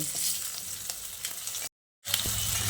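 Rohu fish pieces frying in hot oil in a kadai for a light Bengali fish curry with potatoes, an up-close crackling sizzle with small pops, briefly cut to silence before resuming.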